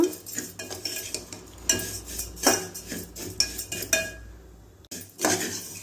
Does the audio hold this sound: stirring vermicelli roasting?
yes